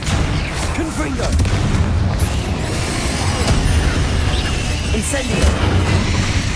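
Confringo blasting spell explosions in the Hogwarts Legacy video game: heavy booming bursts and crashing impacts repeat over a dense, continuous roar of battle noise, loud and close throughout.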